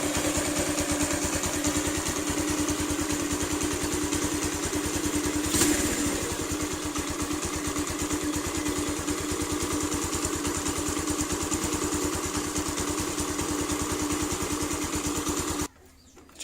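A Keeway Cafe Racer 152 motorcycle idles steadily nearby after engine maintenance, a rapid even putter thumping on without pause and cutting off abruptly at the end.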